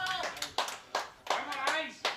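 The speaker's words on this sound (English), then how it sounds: "there's a few claps over there from the far rink" A handful of spectators at a lawn bowls match between Altona and MCC clap from a distant rink, the claps landing in short, uneven groups with a faint murmur between them.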